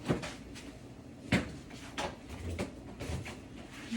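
A freezer door is handled in a home kitchen, giving several soft thumps and knocks over a few seconds, with one sharper bump partway through.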